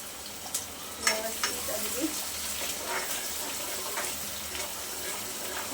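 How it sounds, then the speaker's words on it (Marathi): Finely chopped onion frying in a pan after cumin and mustard seeds have crackled, a steady close sizzle with occasional clinks of stirring throughout. "बारीक कट केलेला कांदा कांदा आपल्याला छान गुलाबी रंग फ्राय करून घ्यायचा आहे"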